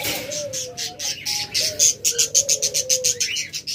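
A healthy, active pet lovebird calls loudly and close by, in a fast run of sharp, high chirps that speeds into a rapid rhythmic burst, with some lower whistled notes underneath.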